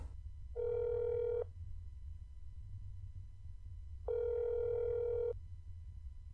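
Phone dial tone from the video game That's not my neighbor, two separate steady electronic tone bursts about a second long with quiet gaps between them, no talking.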